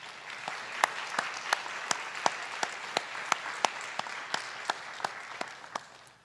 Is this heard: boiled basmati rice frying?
no